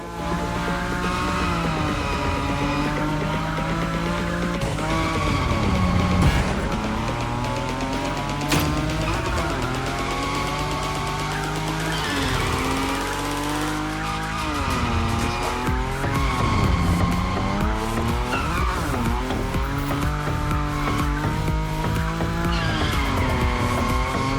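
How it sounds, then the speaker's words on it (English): A Nissan Nismo drifts at high speed in The Crew Motorfest racing game, tires squealing in long wavering howls over a loud revving engine that rises and falls continuously, close and unbroken throughout. "Your Nismo is powerful enough to slide along on its own when you're at high speed, so don't be afraid to keep your foot on the gas."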